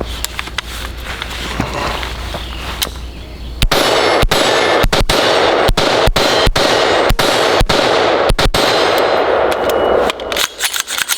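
A 7-inch AR-15 pistol fires 5.56 rounds outdoors in a rapid string of loud, sharp cracks, about a dozen shots in quick uneven succession after a quieter lead-in, each with ringing echo and no talking.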